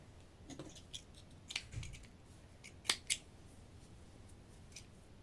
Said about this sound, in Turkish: İpim keseceğim.